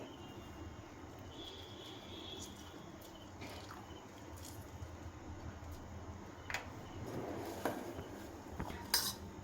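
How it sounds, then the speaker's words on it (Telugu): Sweet corn chaat masala with lemon is mixed in a bowl, with faint, scattered spoon clinks and scrapes over a quiet background. "దీన్ని ఇలా మిక్స్ చేసుకోవాలండి అన్నిటినీ"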